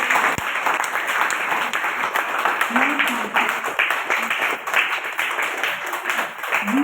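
Clapping for a child's birthday at an old age home in the Nilgiris, steady group applause throughout with voices talking and calling out over it.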